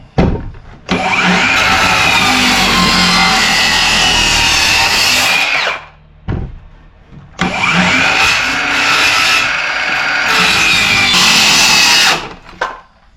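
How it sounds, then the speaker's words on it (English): A power saw cuts a 4x6 wooden post in two long passes, each a loud, steady, whining rip of the blade through wood lasting several seconds, with brief spin-downs between them. "I always do the first cut on the edges just to make sure I have my boundaries"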